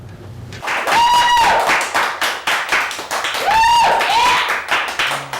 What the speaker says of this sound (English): what the heck are they applauding for a guy needing help?